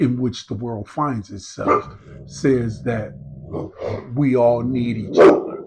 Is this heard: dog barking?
yes